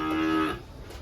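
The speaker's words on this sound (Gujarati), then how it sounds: "અમાર ગાય છે" A cow at a village stable gives a single short moo, moderately loud and close, fading quickly into quiet background.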